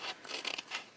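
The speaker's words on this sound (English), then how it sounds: "I have a very fine pair of embroidery scissors that I use for fussy cutting" Fine embroidery scissors snip paper for an ATC in soft, close, rapid little cuts, several quick crisp snips in a row, quiet and alone.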